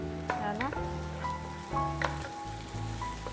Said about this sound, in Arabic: بات لي ان البصله غدا كتشحر مزيان. هي كتشحر.